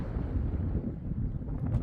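Wind sweeps across a Chihuahua desert homestead on a mild day, a rough, gusty low rumble buffeting the microphone continuously with no voices heard.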